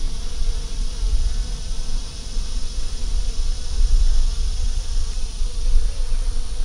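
Honeybees swarm over a hive frame holding eggs, larvae, pollen and nectar, with comb built on fishing-line foundation, giving a dense, steady buzzing hum heard up close and continuously, with no talking.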